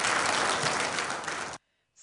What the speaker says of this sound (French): Salve d'applaudissements pour clôturer en beauté la 23e édition du Forum pharmaceutique international.